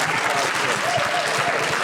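Audience applause fills a Public Child Protection Wales annual conference hall, steady dense clapping throughout, loud and close, with a faint voice briefly audible underneath.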